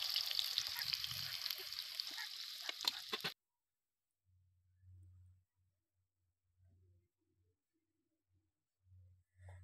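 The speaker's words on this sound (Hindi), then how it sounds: "हम प्याज अच्छे से फ्राई करना है" Onions fry in hot refined oil, a close, bright crackling sizzle for about three seconds that cuts off abruptly, followed by near silence broken only by faint low intermittent hums.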